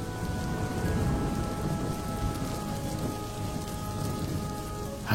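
Steady rain pours throughout a horror story scene, with a low rumble of thunder underneath, dense and continuous with no voices, rising slightly at the very end.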